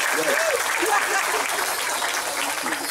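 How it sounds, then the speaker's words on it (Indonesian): An audience at a Kenduri Cinta gathering claps after a dance performance: steady, dense applause throughout, with voices and sung or chanted tones rising over it. "Tepuk tangan."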